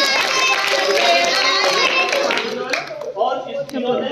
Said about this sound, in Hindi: इनके लिए आप ताली बजाइए।